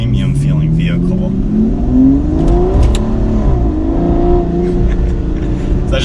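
A used Aston Martin Rapide pulls away through first and second gear, its engine note climbing steadily, dropping at the shift and rising again, loud and close from inside the cabin.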